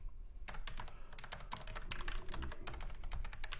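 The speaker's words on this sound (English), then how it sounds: "So here's where I would write out my" Someone types on a computer keyboard, writing an annotation in a quick, irregular patter of close keystrokes that pauses briefly near the start, with no voices.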